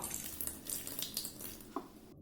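Water pours and splashes into a saucepan of jam with an uneven, bubbly trickle, fairly quiet and close, ending in silence.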